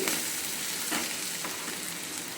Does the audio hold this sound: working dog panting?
no